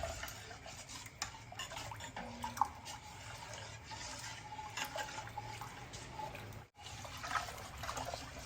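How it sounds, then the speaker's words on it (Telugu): Ragi (finger millet) batter poured bit by bit into a pot of boiling water and stirred at once: steady bubbling and trickling with light scraping, continuous and close, no talk. "ఇది మనము కొద్ది కొద్దిగా వేసుకుంటూ ఇట్లా వెంటనే తిప్పుకుందాము"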